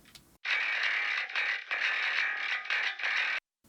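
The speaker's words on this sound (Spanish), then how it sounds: "Un canal de distorsión de solo agudos" A bass guitar channel with treble-only distortion plays a gritty, buzzing, high-pitched distorted tone in steady phrases for about three seconds, loud and alone, with brief gaps between notes, from a metal and hip hop track.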